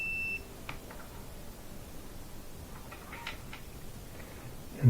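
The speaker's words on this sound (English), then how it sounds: "Let's confirm again that this is our cause by doing one more test. Testing for continuity." A multimeter set for a continuity test on a Maytag Epic gas dryer's thermal fuse gives one short, clear, high beep at the start, followed by faint handling noise in a quiet room.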